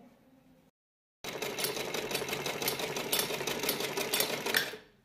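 An electric sewing machine stitches a lehenga, starting after a brief pause and running in a steady, fast mechanical whir close up for about four seconds before winding down.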